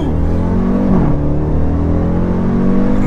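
A 755 HP Jeep Trackhawk accelerating hard, its engine a loud, steady roar with a rising pitch sweep, heard close from inside the car without talking.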